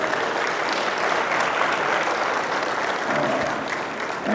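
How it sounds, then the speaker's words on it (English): After a technology keynote in Lagos, a large crowd breaks into loud, sustained applause, a thick continuous rush of clapping that keeps an even level from start to finish. "give him another round of applause"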